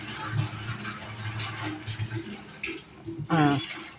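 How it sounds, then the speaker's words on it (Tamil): Water rushes and splashes steadily into a tank nearby, with a brief murmur of voice toward the end. "இப்போ தண்ணி வந்துட்டுருக்குங்க."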